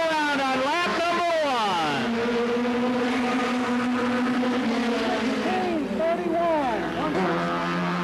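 A Goody's Dash race car laps the oval at Anderson, South Carolina during 1988 Winston 100 qualifying. Its engine holds a loud, sustained roar, with the pitch sweeping up and down as it accelerates and passes.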